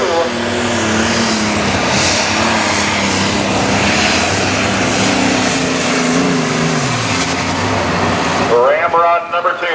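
John Deere limited pro stock pulling tractor at a tractor pull in Rock Valley, Iowa, its engine roaring loud and continuous with shifting pitch for about nine seconds before cutting off abruptly.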